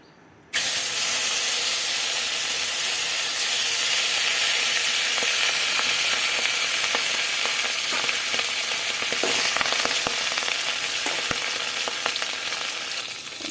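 Tilapia fish frying in hot oil gives a loud, steady sizzle with a broad hiss throughout, and a few sharper crackles and pops along the way.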